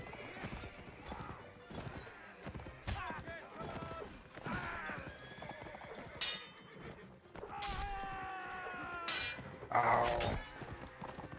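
Horses in the Napoleonic Wars multiplayer line battle game gallop with busy clip-clopping hooves and several whinnies and neighs, mixed with creaks and thwacks of combat.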